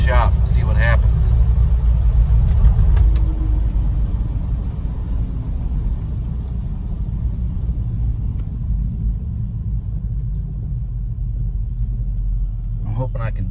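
A car fitted with a Eureka Quadrajet carburetor drives down the road, its engine a steady, loud low rumble with faltering, bumbling character throughout, and no talk over it.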